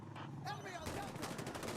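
Rapid gunfire from the tactical shooter game Insurgency Sandstorm breaks out in fast, loud bursts after a brief moment of voice chatter.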